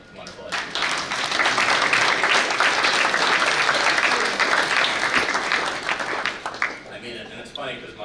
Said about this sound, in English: we can just give a round of applause to all the wonderful educators